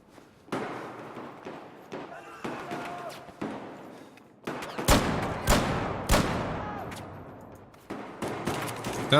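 Gunfire in Battlefield 4 Gunmaster mode, with repeated loud shots and bursts of varied intensity coming in clusters, some near and heavy, plus thuds and movement between shots.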